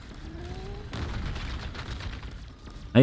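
A ray gun fires during a Black Ops 6 zombies boss fight in Citadelle des Morts: several muffled energy blasts among game noise, ending in a sudden loud burst.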